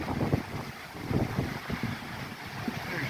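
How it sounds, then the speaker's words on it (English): Strong gusts of wind buffet in bursts during a heavy downtown rainstorm, rumbling close to the microphone over a steady wash of rain-like noise. "It's so windy. It's opening the door."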